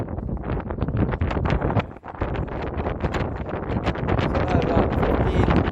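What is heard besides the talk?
wind blowing on a roof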